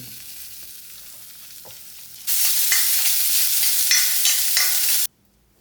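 Small pieces of coconut are roasted in a pan for erissery during a Vishu sadhya, first as a quiet background, then a sudden loud, steady hiss and sizzle with light stirring that cuts off abruptly.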